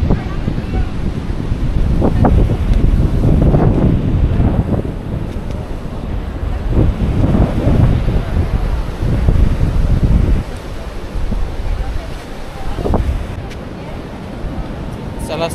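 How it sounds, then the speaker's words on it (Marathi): A rough sea off Bali sends waves surging and crashing while strong gusts of wind batter the microphone and dominate the sound throughout. "चला समुद्र खवललेला आहे."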